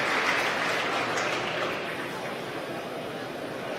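Crowd of spectators at a SpaceX Falcon 9 CRS-12 launch cheering and applauding as the Dragon cargo capsule deploys, a broad, steady roar of voices and clapping that stays loud throughout and eases slightly toward the end.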